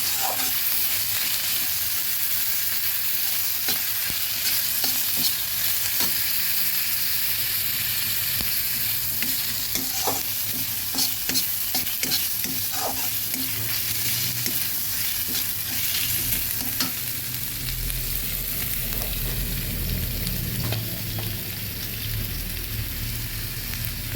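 Ginger, garlic and onion paste fries in a pan with a steady loud sizzle, broken by frequent scraping stirs of a spoon against the metal.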